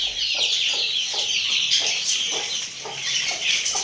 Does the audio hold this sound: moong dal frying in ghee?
no